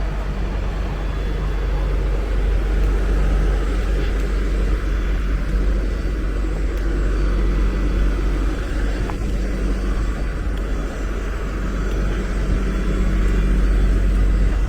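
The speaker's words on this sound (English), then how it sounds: "Yay, our bus is here." A shuttle bus at Walt Disney World idling and running close by, a loud continuous low rumble with steady engine noise throughout, no clear talk over it.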